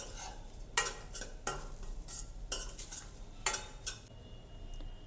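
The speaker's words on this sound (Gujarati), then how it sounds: "તેને આપણે મિક્સ કરી લઈશું।" Semolina upma with salt gets stirred in a pan: a spoon scrapes and clatters rhythmically against the metal in repeated sharp strokes over a low frying hiss, close and fairly clear.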